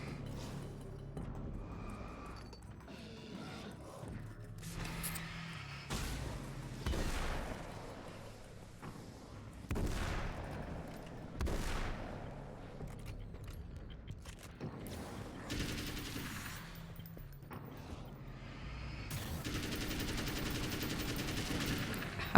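Gunfire in the video game Alan Wake: American Nightmare pops off repeatedly in fairly quiet, irregular bursts, with steady crackling shots spread across the stretch and a denser burst near the end.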